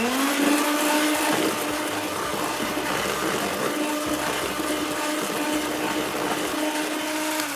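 An electric mixer beats egg into butter for cupcake batter with a loud, steady motor whir that barely changes. The machine hums close and continuous, with no speech.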